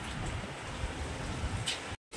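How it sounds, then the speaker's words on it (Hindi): Rain pours down in Saudi Arabia, a continuous close hiss of drops striking surfaces that holds steady before cutting out abruptly near the end. "सऊदी अरब में लोग बोलते थे कि बारिश नहीं होती, लेकिन देखो अल्लाह की रहमत माशाल्लाह किस तरह से बरस रही है"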